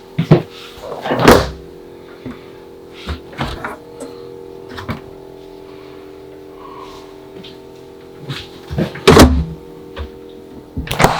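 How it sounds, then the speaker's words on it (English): Everchill 12-volt refrigerator with French doors in a luxury bunkhouse fifth-wheel RV, its doors thumping and latching in a few loud, close bursts separated by a quiet humming pause. "12-volt refrigerator, Everchill."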